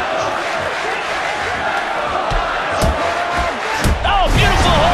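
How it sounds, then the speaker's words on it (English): An MMA crowd at a UFC 14 bout chants and roars for fighter Chris Lytle in a loud, continuous wash, with a commentator's voice over it and heavy thuds and shouts near the end. "And the crowd again chanting for Chris Lights Out Lytle."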